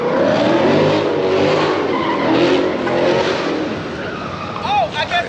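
A Dodge SRT car roars past outside at a car takeover in Houston, with engine noise and a brief tire squeal, the sound fading and shifting as it moves.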